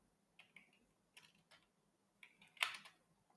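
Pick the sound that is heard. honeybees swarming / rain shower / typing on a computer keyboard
typing on a computer keyboard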